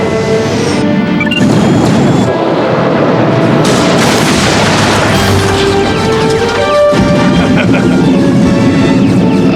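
Cartoon battle gunfire and explosions from a 1994 animated sci-fi series, with dense, loud bursts of shots, booms and crashes layered over a droning engine whine, continuous throughout.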